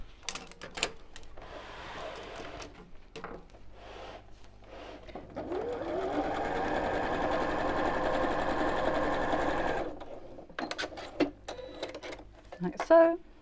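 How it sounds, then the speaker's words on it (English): A sewing machine top stitches across the folded edge of a fabric wine glass coaster. It runs in short bursts and then in one long steady whir, with a person talking around it. "I'm just going to top stitch across the edge of the fold here and here."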